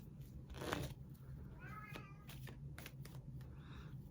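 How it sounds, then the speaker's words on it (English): A loud house cat meowing insistently for food, several short cries scattered over a few seconds alongside soft rustling and handling noises, fairly close and quiet overall with no talking. "My cat is very loud, and he is telling us he is starving."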